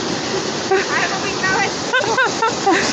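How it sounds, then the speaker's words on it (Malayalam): Water pours down a waterfall on a hiking trail in Rishikesh into crystal-clear pools, a steady broadband rush close by, with people talking over it. "കണ്ടില്ലേ വെള്ളമൊക്കെ ഇങ്ങനെ ഒഴുകി വരുന്ന മുകളിൽ നിന്നും."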